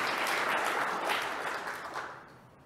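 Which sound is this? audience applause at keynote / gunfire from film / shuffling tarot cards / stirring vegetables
audience applause at keynote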